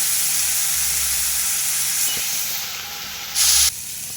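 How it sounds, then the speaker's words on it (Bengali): Potatoes frying in a kadai make a continuous loud hiss and sizzle up close, with a short, stronger burst of hissing near the end. "আলু ভাজা বসিয়ে দিয়েছি কড়াইয়ে দিয়ে"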